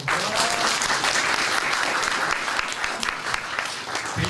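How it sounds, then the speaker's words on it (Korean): An audience at a book concert with a Korean novelist applauds loudly and continuously, a thick wash of clapping that holds steady for the whole stretch. "이런 이용규 선생님께 박수를 좀 보내주시죠."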